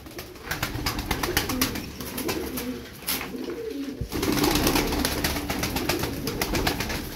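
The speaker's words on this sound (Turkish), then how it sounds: "Hayvan kanat hareketleri güzel. Kanat çalıştırıyor." White tumbler pigeons in a loft, repeated close wing flapping bursts alongside low soft cooing, with a brief sharp knock midway and steady flutter continuing afterward.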